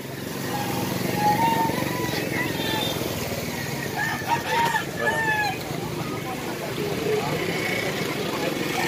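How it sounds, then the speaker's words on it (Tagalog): Several fighting roosters crow at intervals, some nearer and some farther off, over a constant outdoor background hum. "Mga manok naman. Mga binibintang panabong na manok."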